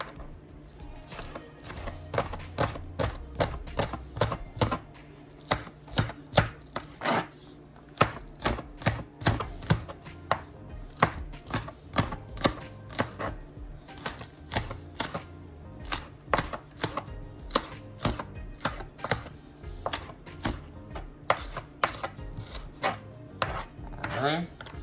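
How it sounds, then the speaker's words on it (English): A knife chops green peppers on a cutting board in rapid, uneven runs of crisp, close taps over about 25 seconds, with light scraping between bursts and a faint background hum. "let's cut in some green peppers"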